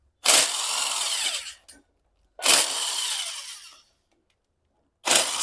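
Two long bursts of a power tool spinning out the clutch cover bolts on a Bajaj Pulsar 150 engine, each whir lasting over a second with a short stop between, and a third burst starting at the end; no talk.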